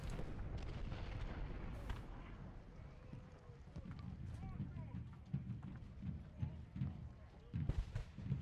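Artillery and massed fire from a Civil War battle in the video game Ultimate General: Gettysburg arrive as scattered muffled booms and crackles under a low, continuous battle din, fairly quiet overall.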